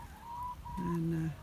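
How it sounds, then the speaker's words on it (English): Backyard chickens at feeding time give short, clucking and crowing-like calls, faint and close by, with one longer call near the end and a brief voice. "Next job is the chickens."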